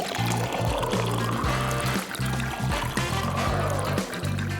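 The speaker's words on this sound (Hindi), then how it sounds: "ठीक है, अब पानी डालते हैं। बस ध्यान रखना कि वो पूरी तरह से भर जाए।" Water pouring steadily into an empty glass container to fill an aquarium, a continuous close splashing stream with a rising trickle, heard alone.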